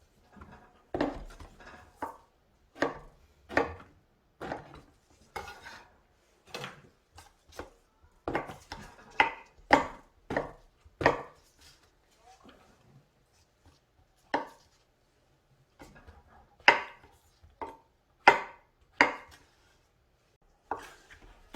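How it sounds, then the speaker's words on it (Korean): King oyster mushrooms are chopped thickly with a kitchen knife on a cutting board, giving about twenty crisp, close knocks in irregular bursts separated by short pauses. "새송이도 조금 굵게 잘라주세요."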